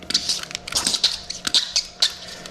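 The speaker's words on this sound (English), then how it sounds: "these things are going to squeak like crazy" An office chair fitted with soccer-ball tire casters squeaks repeatedly as it rolls, giving quick high-pitched chirps in an irregular rhythm, close and fairly loud, with no talking.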